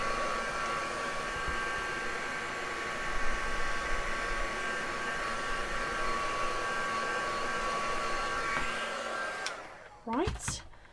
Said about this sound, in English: Just going to give it a zap with a heat gun.